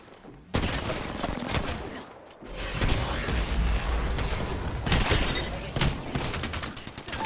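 Loud, sustained automatic gunfire rattles through a firefight in the battle royale shooter Apex Legends, with dense rapid bursts and a brief lull before the shooting resumes.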